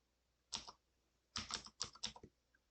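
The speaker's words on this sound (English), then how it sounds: "we are going to go ahead and start typing transform lowercase" Keys clatter on a computer keyboard in two quick bursts, a short flurry, a pause, then a longer run of rapid taps, close by and quiet.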